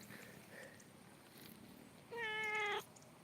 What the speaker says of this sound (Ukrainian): Так, котик. Котик прийшов до мене.